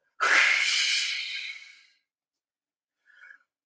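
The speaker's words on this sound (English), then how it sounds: "When you were starting your breathing activities, start with an exhale." One long, breathy exhale during a breathing exercise, loud and close, trailing off over about a second and a half, then a short, quiet breath after a pause.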